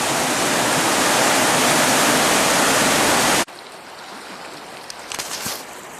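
Strong current of the Salmon River in Idaho rushes in a loud, steady broadband roar that cuts off abruptly partway through, leaving quieter ambient water and faint knocks.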